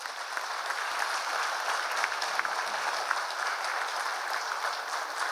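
Steady, sustained applause from an audience at a public talk honoring Swami Vivekananda, a dense wash of many hands clapping at even loudness throughout with no voices on top.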